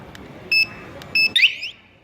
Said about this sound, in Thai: ปกติครับผมกดล็อกรถ จะดัง1 ทีพร้อมไฟเลี้ยวกระพริบอีกทีนะครับ